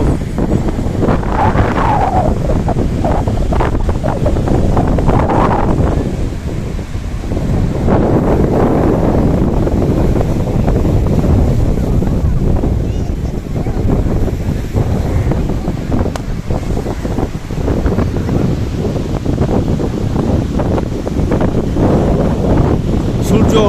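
Steady roar of sea waves and gusting wind at Marina Beach in Chennai, loud and continuous with heavy wind buffeting across the whole stretch, and a voice talking faintly underneath.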